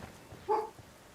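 A single short, muffled dog bark sounds once at a distance, quiet against a low background murmur.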